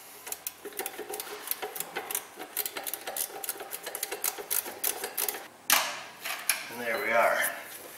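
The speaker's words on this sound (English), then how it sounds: "Little straight ratchet wrench we got right back here." A small straight ratchet wrench clicking in rapid, uneven bursts while working on a Kia Sedona 3.5 engine, close and crisp, followed by a brief rustle and scrape.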